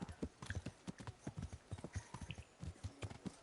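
Horse hooves clip-clop at a brisk, steady gait through the town of Rattay in the Kingdom Come video game, close and distinct, with a soft snort or two and no talking.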